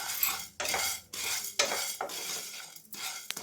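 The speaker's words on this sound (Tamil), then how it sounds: "இதில் சீரகம், கருப்பு உளுத்தம்பருப்பு, கடலைப்பருப்பு இதெல்லாம் சேர்த்துட்டு ட்ரை ரோஸ்ட் பண்ணிக்கலாம்." Cumin seeds, black urad dal and chana dal dry roasting in a hot pan, with repeated scraping and stirring clatters of a utensil against the metal over a soft dry rustle, a close series of bursts.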